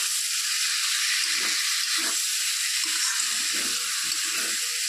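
Boiled, peeled small potatoes fry in a pan, giving a steady, loud sizzling hiss throughout, with faint clinks and stirring sounds beneath it.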